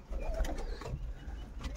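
Pigeons in a loft where birds sit on eggs beside squabs, giving low soft coos close by over a steady murmur of background noise.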